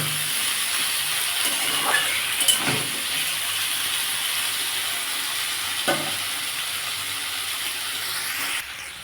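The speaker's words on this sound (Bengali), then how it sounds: "সামান্য একটু নুন দিয়ে দিলাম দিয়ে ভালো করে ভেজে নেব" Potatoes and tomatoes frying with salt in a pan, a steady close sizzle and hiss with a few louder crackles and a stirring clatter now and then, no voices.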